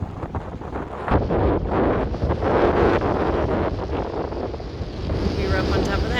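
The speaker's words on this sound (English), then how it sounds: "It's windy down here." Strong wind gusts blow across a partly frozen lake below a waterfall at Mammoth Lakes. Loud, rumbling buffeting hits the microphone close up and swells and eases throughout.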